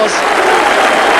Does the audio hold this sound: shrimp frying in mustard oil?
no